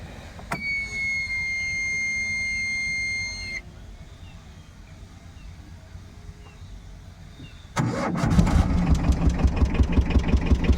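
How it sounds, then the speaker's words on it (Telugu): A Tata Magic engine turns over after a warning chime and then runs at a slow, rhythmic, close diesel-style idle with steady low pulsing. "వెహికల్ అయితే ఒకసారి స్టార్ట్ చేసి చూద్దాం."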